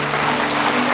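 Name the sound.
church congregation applauding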